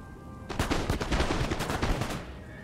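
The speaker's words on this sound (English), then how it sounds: "Go, good first volley." Musket volleys ring out in the Total War: Napoleon video game, a dense crackle of rapid overlapping shots lasting about two seconds, moderately loud, with no talk over the firing.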